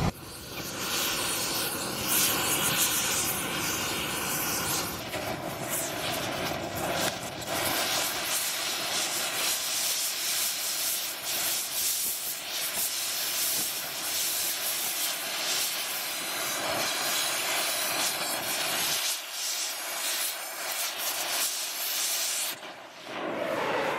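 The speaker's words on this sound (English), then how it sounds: "I just hit the plate in the center with the torch" An acetylene torch flame played on the centre of a ceramic plate gives a loud, continuous roaring hiss. It holds steady for over twenty seconds, thins briefly near the end and surges back. Nobody speaks.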